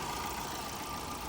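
A 2010 Tata Vista Terra Quadrajet diesel engine idles quietly and steadily, a soft continuous hum with no talking over it.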